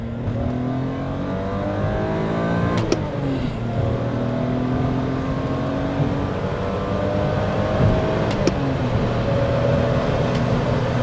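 Euro right-hand-drive BMW E34 M5 with the 3.8 engine accelerating hard, its engine note climbing steadily through the gears with brief shift breaks, loud and continuous from inside or close to the car.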